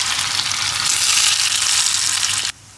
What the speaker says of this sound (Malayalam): വെളിച്ചെണ്ണ ചൂടായിട്ടുണ്ട് ഞാൻ ഓരോന്നും ഓരോന്നും ഇട്ട് കൊടുക്കാണ്